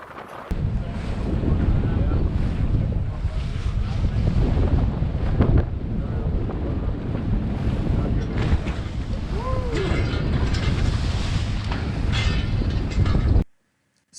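In strong wind, swells pound the bow of a sailboat off South Florida, giving repeated heavy thuds and rushing water under steady wind buffeting on the microphone, with some speech mixed in.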